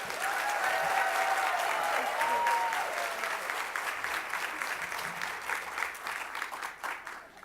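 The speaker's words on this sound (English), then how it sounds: "let's put our hands together as we give an uplifting welcome to Karen Cook" An audience claps steadily in a hall to welcome the speaker Karen Cook to a talk. The sustained applause slowly thins and fades toward the end.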